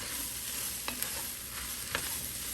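Beef and tomato paste frying in a pan under a steady loud sizzle, with a few soft scrapes and clicks as a spoon stirs them.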